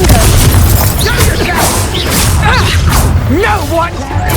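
A Confringo fire spell explodes in Hogwarts Legacy combat, a loud booming burst with whooshing swishes amid constant dense battle noise, while voices shout over it.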